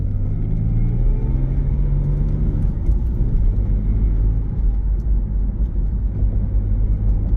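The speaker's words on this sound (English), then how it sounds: "I'm gonna hit the brakes hard right now" A 1998 Mitsubishi 3000GT VR-4 braking hard, a continuous loud low road and engine rumble inside the car that shifts as it slows, with no talk.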